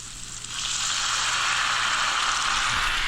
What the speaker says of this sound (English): now I'm gonna add a little bit of Montepulciano wine that my dad sent us